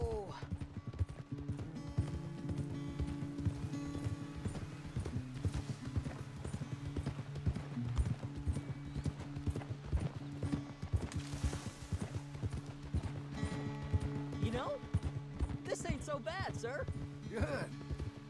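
Rhythmic clip-clopping of horse hooves at a trot in the video game Red Dead Redemption 2, steady throughout, with background music, occasional voices, and a brief whinny near the end.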